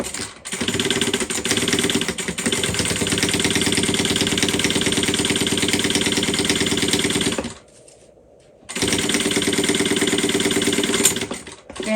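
A sewing machine stitches the side seams of a tote bag, its motor buzzing steadily and loudly, stopping for about a second before running on again.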